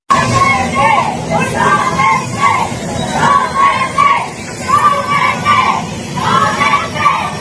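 A crowd in Davao greets Bongbong Marcos on his arrival, loud close shouting and cheering that swells in repeated waves of voices calling out together over a steady background babble.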